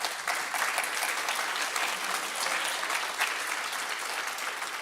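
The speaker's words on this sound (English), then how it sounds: "Can we give everyone here another round of applause?" An audience at an annual meeting breaks into another round of applause, a dense, sustained roar of clapping that stays loud and even throughout with no talk over it.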